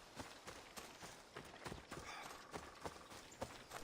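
A horse's hooves running off in the Assassin's Creed Odyssey video game, quick irregular clopping beats fading in a faint, busy game soundscape without talk.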